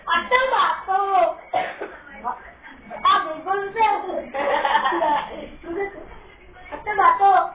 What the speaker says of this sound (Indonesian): Ada batuk.